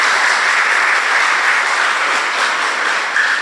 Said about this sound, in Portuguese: Uma salva de palmas para São José.